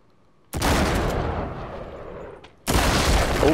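Two loud blasts of gunfire from Uncharted 3: Drake's Deception, each a sharp onset followed by a long rumbling decay, the first ringing out about two seconds before a second burst starts.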